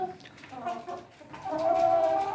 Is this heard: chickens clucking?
yes